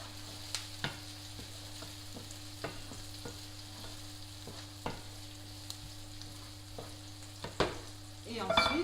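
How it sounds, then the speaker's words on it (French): Onions cooking in a pan for beef lasagna, a soft steady sizzle broken by regular light clicks and scrapes of stirring, with a louder clatter at the end. "je vais laisser mes oignons cuire"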